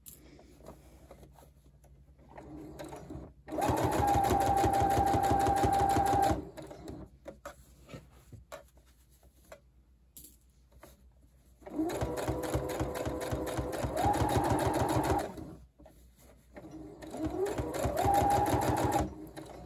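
A sewing machine stitches fabric for a book cover, running in three long bursts of rapid mechanical chatter separated by quiet pauses, loud and close, with faint speech between the runs.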